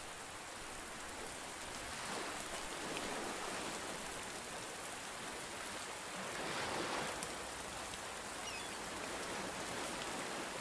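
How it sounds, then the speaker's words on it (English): Rain falling in the video game Under A New Sun, a steady dense hiss of rainfall that swells slightly in intensity, continuous and even throughout with no voices. "It comes to rain."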